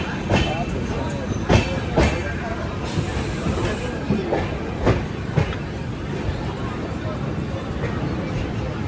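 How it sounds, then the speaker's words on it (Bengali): Kanchonjungha Express rolling into platform 5 at Bardhaman Junction, a loud rumble of carriages with sharp rhythmic clicks of wheels over rail joints and a brief screech, a voice talking over it. "আমাদের ট্রেন কিন্তু বর্ধমান জংশনের 5 নম্বর প্ল্যাটফর্মে প্রবেশ করলো।"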